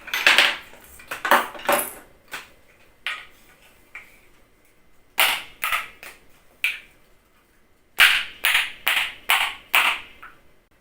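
Metallic clacking of spoons played in rhythmic bursts, quick clusters of bright clicks separated by short pauses, close and fairly loud.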